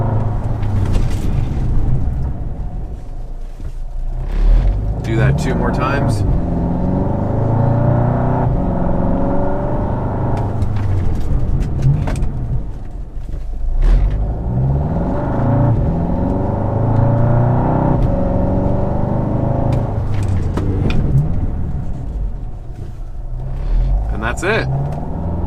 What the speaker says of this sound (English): I'm going to slam on the brakes fairly hard and not come to a complete stop, maybe about 5 miles an hour.